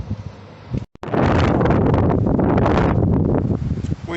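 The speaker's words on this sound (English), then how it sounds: "Wind's starting to pick up a little." Strong wind blows outdoors in Reykjavik, Iceland in winter, buffeting the microphone with a loud, roaring rush that surges in gusts after a brief dropout and stays heavy and close, with no talking.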